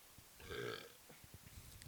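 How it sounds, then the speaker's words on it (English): A single short, low burp after drinking hazy beer, close and fairly quiet, followed by faint rustling. "beer makes me burp"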